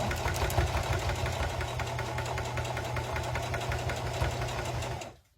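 A sewing machine stitches through three thick layers of felt for a snowman hat, its needle hammering in a fast, steady rhythm, close and alone, then stopping abruptly.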